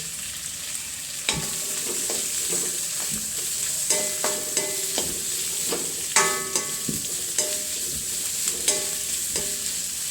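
Spices and ingredients sauté in a pan with a steady sizzle, while a utensil repeatedly clinks and scrapes against the pan.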